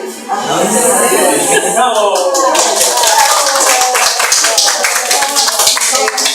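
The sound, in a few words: audience applauding a group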